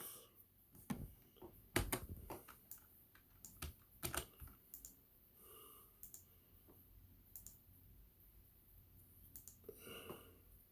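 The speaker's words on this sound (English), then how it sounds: "And first, I got to type up some stuff." Typing on a computer keyboard, a quiet run of clicks in irregular bursts, denser early and sparser later, close to the microphone with no talking.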